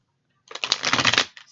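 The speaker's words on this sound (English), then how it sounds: "One more shuffle." A deck of tarot cards is riffle-shuffled once at close range, a quick burst of dense, papery flapping that builds and then fades within about a second, with no talking over it.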